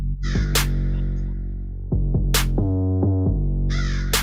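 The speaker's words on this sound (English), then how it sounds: "What is that bird?" Crows cawing loudly in a few harsh bursts, heard alone at close range with a steady hum underneath.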